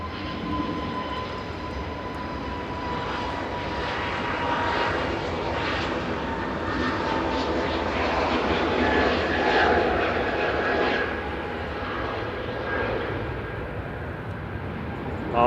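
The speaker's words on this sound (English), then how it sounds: "Our second 757 of the day." A 30-year-old Boeing 757 on the runway at Manchester Airport lets out a loud, sustained jet engine roar that swells in the middle and eases toward the end, with brief talk heard faintly underneath.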